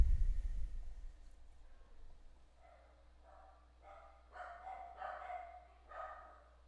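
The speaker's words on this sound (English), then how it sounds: "My dogs are freaking out a little bit." Several dogs barking indoors after a family member leaves the house, a burst of yips and barks building toward the end, moderately distant, with no talk.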